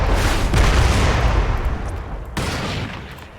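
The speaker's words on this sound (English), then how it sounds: "Let's hit him with a rocket." A rocket launcher strike explodes loudly in the video game Crysis, a heavy rumbling blast that rolls on for a couple of seconds before a second sharp hit and a fading roar.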